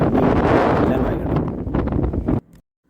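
Strong wind at Ramakkalmedu buffeting the microphone, a loud roaring rumble for over two seconds before it cuts off suddenly.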